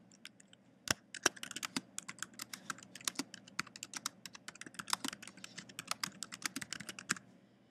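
Close, rapid typing on a computer keyboard: a dense, irregular run of sharp keystroke clicks, some louder than others, with no voices.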